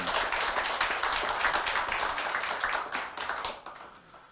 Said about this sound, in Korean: 두분 의원님께 박수 한번 보내주십시오